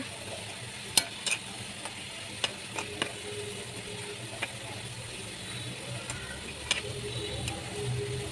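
Onions frying in a pan for dal, stirred constantly, give a steady sizzle with scattered scrapes and clicks of the utensil against the pan, moderately close and without talk.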